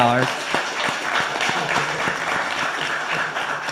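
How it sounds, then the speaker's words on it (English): A council meeting audience breaks into clapping, a steady patter of many hands close by with a voice speaking over it. "We can clap for that."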